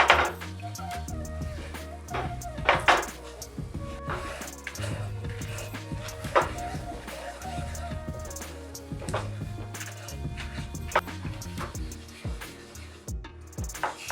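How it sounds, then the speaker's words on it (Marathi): Flour stirred into melted butter in a pan at the start of a broccoli soup, heard as close, irregular scraping and knocking of a spoon against the pan, with scattered sharper clicks and no talking. "बटर मेल्ट झाला आता मी यामध्ये तीन चमचे इतका मैदा घालत आहे आता हे आपल्याला व्यवस्थित शिजवून घ्यायचं आहे"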